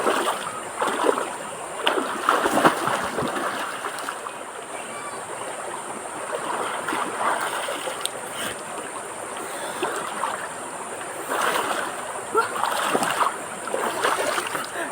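River water rushes and splashes steadily as someone bathes alone in a river, with a few louder surges of splashing near at hand and no talk.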